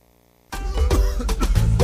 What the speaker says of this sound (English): Oga conductor, this kind cough na serious matter.